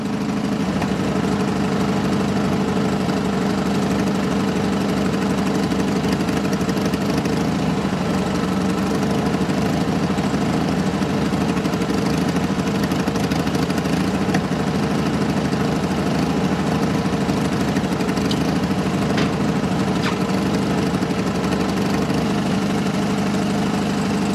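A chainsaw engine running on a fix of fresh fuel and avgas after bad gas was cleared from the fuel line and carburetor, idling steadily and fairly loud with a slightly uneven, knocking throb throughout.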